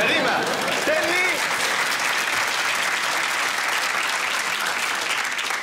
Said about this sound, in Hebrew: אין צורך למחוא כפיים לפולני שיצליח להגיד מילים ביידיש